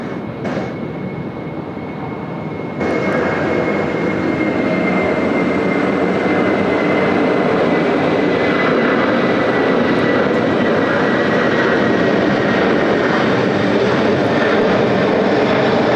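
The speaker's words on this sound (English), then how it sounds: "Look at that, filling out the frame really nicely, the A330 with those big wings." An Airbus A330 airliner takes off from a runway at Sydney Airport, its engines rising abruptly into a loud, sustained roar with a steady high whine and no voices over it.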